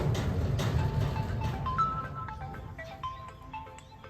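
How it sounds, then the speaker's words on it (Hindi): A melodic phone ringtone plays a rising and falling tune over a busy, noisy background. "थोड़ा फोन आ रहा है तो बात करनी पड़ेगी भाई साहब"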